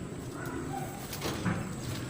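Pigeons in a backyard loft give low, soft cooing calls, a couple of brief coos over a steady background hum with no talking.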